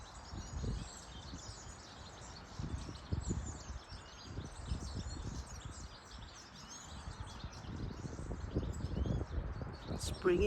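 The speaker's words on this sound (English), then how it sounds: "All of a sudden, the birds are back." Small birds chirping and calling beside a canal on an early spring morning, scattered high tweets over a low rustling background with soft bumps and handling noise.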